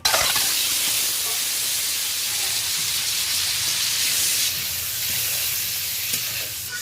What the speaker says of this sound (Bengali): এই পর্যায়ে আমি লবণ হলুদ মাখানো ডিমটা ভেজে নেব।